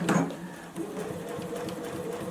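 A JUKI sewing machine top stitching a seam on a fabric face mask, a fast, steady mechanical whirring stitch that starts with a brief thump and runs evenly and close.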